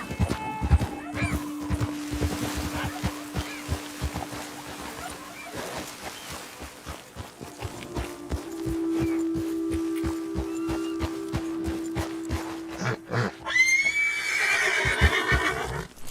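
A horse in Red Dead Redemption 2 plods along with rhythmic hoof clops for several seconds, then lets out a loud, shrill neigh near the end.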